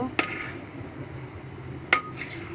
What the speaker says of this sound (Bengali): কয়েকটা পোলাও পাতা দিয়ে এখন ভাতগুলো সুন্দরভাবে নেড়ে ছেড়ে দিব